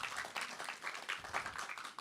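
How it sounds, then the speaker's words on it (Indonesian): A church congregation applauding, a dense, steady patter of many hands clapping together, fairly faint and distant, with no speech over it. "let's give them a hand"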